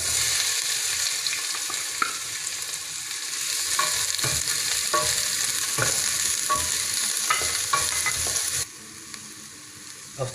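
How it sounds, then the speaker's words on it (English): Ginger frying in hot oil in a pot sizzles steadily up close, with scraping stirs cutting in at irregular intervals, and no voices. "Stir fry the ginger until you can smell the aroma."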